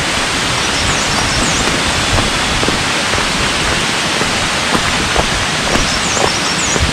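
Water rushing steadily at Rainbow Waterfall near Sonada in the Kalej Valley, Darjeeling, a loud continuous roar that fills the whole stretch with no speech, with faint bird calls audible above it.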